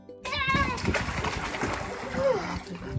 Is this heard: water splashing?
yes